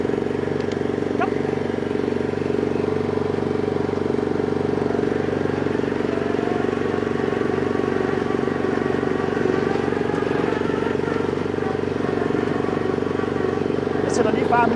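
A garden tractor engine driving, a loud steady droning hum held close throughout, with brief faint knocks and a short rattle near the end.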